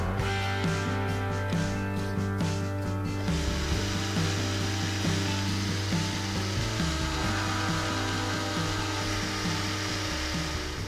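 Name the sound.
drilling holes in a homemade fishing lure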